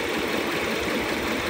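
A diesel car engine idles with a steady, dense rumble and faint knock, close and constant throughout, with no voices over it.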